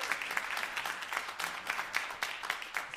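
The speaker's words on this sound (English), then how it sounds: "Let's give another big round of applause to Jazz" Steady applause from a concert audience at a student recital, a dense patter of many hands clapping at moderate volume throughout, with no voices on top.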